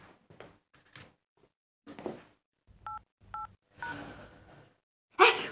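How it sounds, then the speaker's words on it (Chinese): Two short telephone keypad tones beep in quick succession amid soft rustling and quiet household handling sounds, followed by a louder thump at the end. "我给客户主任打个电话"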